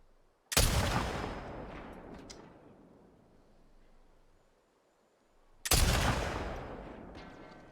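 Two heavy gunshots from The Last of Us Part II, each a loud broadband blast followed by a long decaying echo, spaced about five seconds apart with near silence between.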